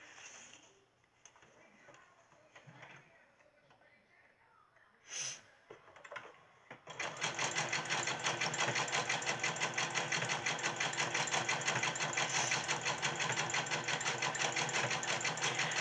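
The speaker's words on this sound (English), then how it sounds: "where you sewed, that's where you're gonna zigzag stitch" A sewing machine zigzag stitching a fabric gift bag starts after several seconds of quiet handling sounds, then runs as a loud, steady, rapid mechanical chatter to the end.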